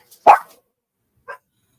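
Dogs bark indoors: one loud, close bark followed about a second later by a shorter, fainter bark, with silence between.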